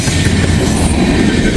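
A ballast train rolls past on railroad tracks in Walton, loud and close, with a continuous heavy rumble and rhythmic wheel clatter and no voices.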